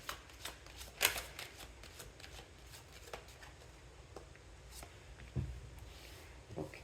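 Tarot cards being shuffled by hand, a run of soft papery riffles and flicks with a sharper snap near the start and another toward the end, close and fairly quiet, with no talk.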